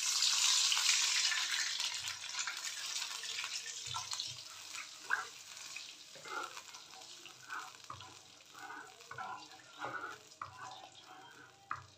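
Water pours steadily into a cooking pot for soup for a few seconds, followed by scattered clinks and light kitchen handling sounds.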